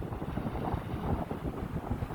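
Steady wind buffets a microphone at a lakeside tent campsite, a dense continuous rumble and rush with no other sounds standing out.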